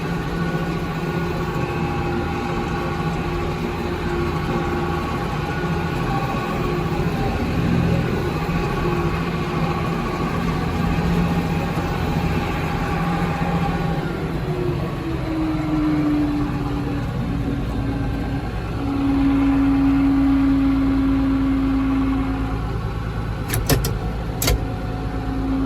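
An IH 886 tractor pulling a Bush-Wacker MD144 mower engine runs steadily while clipping low ground in a hay field, a continuous loud close drone with a rising tone near the end and a few brief clicks.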